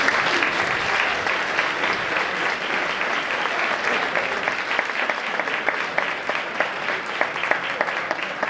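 A large audience at an Asturian Christmas folk music gathering applauds continuously, dense, even clapping that stays loud and close for the whole stretch, with a faint murmur of voices underneath.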